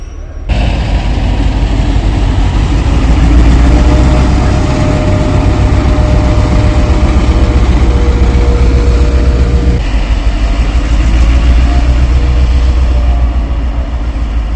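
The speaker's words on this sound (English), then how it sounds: "And here is a goods train." A goods train rolls past in Sarajevo, a loud, steady low rumble of engine and wagons holding for about fourteen seconds with little change.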